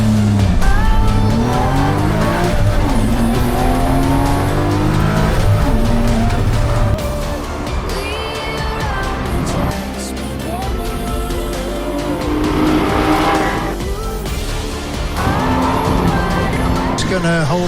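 Porsche Boxster race cars accelerate hard from the start at Anglesey circuit, engines roaring loudly through gear changes with tyres squealing, while a commentator talks over the noise.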